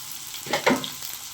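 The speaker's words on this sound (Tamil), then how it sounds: "இப்போ வெண்டைக்காயும் சேர்த்து நல்லா வதக்கிடலாம்." Okra (vendakkai) frying in a pan for chutney gives a steady soft sizzle with a few brief stirring scrapes, close and moderately loud.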